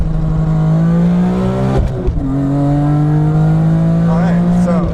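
A BMW E46 M3 with a 3.2-liter engine and track modifications accelerates, heard from inside the cabin with the windows closed: a loud, close engine note climbs steadily, breaks briefly at a gear change, then pulls hard again.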